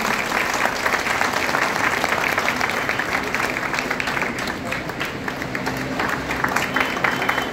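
A crowd at a book launch event claps loudly and continuously, a thick, even roar of applause that holds strong throughout with a few sharper claps standing out.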